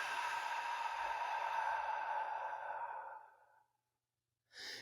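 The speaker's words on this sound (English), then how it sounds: "take a nice deep breath to pull that light within us. And relax into the exhale" A slow, deep breath in a calm guided meditation, one long airy exhale that fades out over about three seconds before a short fresh inhale at the end, close and soft with no talking.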